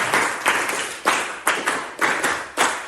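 Rhythmic hand claps come in short grouped bursts, loud and close, a sharp clap followed by quicker ones in a counted pattern during a clapping exercise, with no voices between them.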